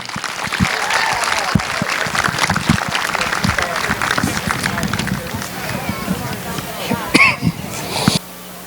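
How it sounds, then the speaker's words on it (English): An outdoor crowd at Midvale Speedway, an Ohio dirt track, applauds a Hall of Fame induction with dense, steady clapping that lasts about eight seconds, with scattered voices and a whistle mixed in before it cuts off. "How about a big round of applause for the Belknap family down there?"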